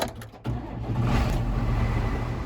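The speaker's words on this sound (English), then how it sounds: "shifts the tractor into gear and gets to work" A tractor engine kicks in abruptly and settles into a steady, low, rumbling drone, continuing loudly and close throughout.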